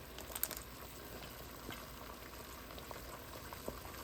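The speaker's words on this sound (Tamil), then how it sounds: "போட்ட உடனே இந்த கொதி தண்ணியில் இந்த மெழுகு உருகுது" Candle wax melting in a pot of boiling water gives a steady bubbling simmer with small pops and crackles, moderately close, with no talking.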